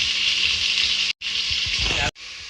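Onions frying in a pan for a chapati veg roll, a steady close hiss of sizzling oil with soft stirring scrapes, briefly cut off twice.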